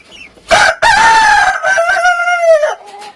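An eight-month-old Kapiri rooster crows close and loud in one long, sustained call that rises and then holds, with a few short clucks just before it and a soft trailing note after.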